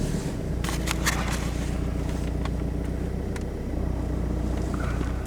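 A cold diesel engine cranking over slowly on a frosty morning with the clutch held in, a steady, loud, laboured churning that drones on throughout with no talking.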